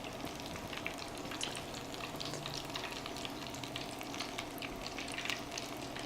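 Crab cakes fry in a pan with a soft, continuous sizzle and crackle, fairly quiet and steady throughout, with no voices.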